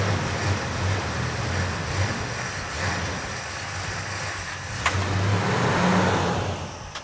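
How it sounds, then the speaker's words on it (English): A Plymouth Superbird, one of only 43 made, idles and revs its V8 engine nearby, a loud continuous rumbling burble with a swell in revs toward the end and no talking. "that's almost a pint of fuel right there just running that engine"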